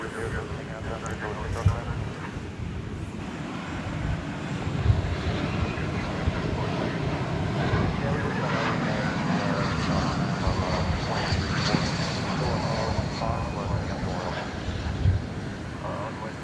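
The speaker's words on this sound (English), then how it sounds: "Tide pod alert for this Sun Country flight 504, 737-800 going to Minneapolis" Sun Country Boeing 737-800 jet rolling at DFW Airport, a steady broad engine roar under wind buffeting on the microphone, holding fairly constant with a person talking over it.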